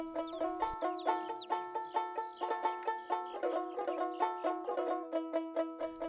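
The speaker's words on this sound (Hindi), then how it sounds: "ग्राम देवता को लाल रंग के चूजे की बलि दी जाती है" A red chick, clucking close up in rapid, rhythmic repeated calls that continue steadily throughout, before being offered as a sacrifice to the village deity during the Sohrai festival.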